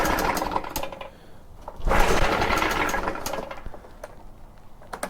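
A Stihl BR800X backpack leaf blower engine runs at full throttle while failing to rev up properly, giving a loud, close, buzzing drone that dips in level and then surges back around the two-second mark.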